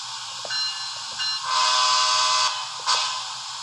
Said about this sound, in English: We got the locomotive going forward, and then we got the locomotive going reverse.